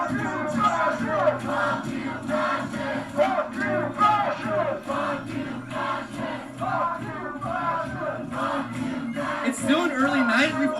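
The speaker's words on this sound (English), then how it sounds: "The crowd's being heated up." Heated protest crowd outside a UC Berkeley event, many voices shouting and chanting together in a continuous loud roar, close and dense.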